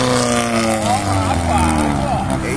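Turbocharged VW Gol cars accelerating out of a gas station, a loud engine roar rising and falling in pitch through gear changes, with people talking over it.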